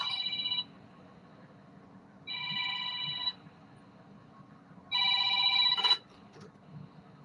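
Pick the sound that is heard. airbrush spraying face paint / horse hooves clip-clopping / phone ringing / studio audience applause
phone ringing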